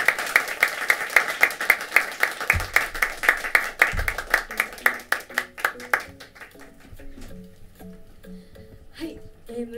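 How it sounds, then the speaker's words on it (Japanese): An audience claps after a song at a small live venue, Minami-Horie knave. The clapping is loud and busy at first, then thins out while soft, pitched keyboard-like notes begin to ring beneath it. "はい、拍手をお願いします。"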